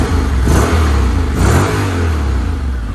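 A 2017 Honda X-ADV scooter engine revs up and down twice, loud and close, its droning rumble rising and falling steadily without any talking.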